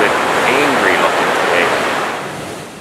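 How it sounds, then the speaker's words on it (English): Rough ocean surf churned by hurricane winds crashes against rocky shoreline in Nova Scotia, a steady loud roar of waves and wind gusts that fades slightly toward the end, with no speech. "surf is a little bit angry looking"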